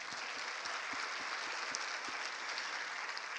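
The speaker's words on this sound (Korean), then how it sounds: "우리 세상팀께 다시 한번 박수하겠습니다" A church congregation applauds the praise team with a continuous, full wash of clapping that holds steady from start to finish.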